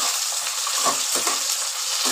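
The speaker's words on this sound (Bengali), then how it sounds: "টমেটোগুলো পেঁয়াজের সাথে দিয়ে দিলাম।" Cut tomatoes tipped into a pan of frying onions, a steady, close, hissing sizzle with a few soft stirring scrapes, no voices.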